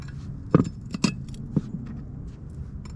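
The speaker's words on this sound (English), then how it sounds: "I'm just going to slide these bolts in just like this" Metal carriage head bolts slide into a harrow disk bearing bracket, giving a few sharp metallic clinks and scrapes close by against a low background hum.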